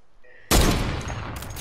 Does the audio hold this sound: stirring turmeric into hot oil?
no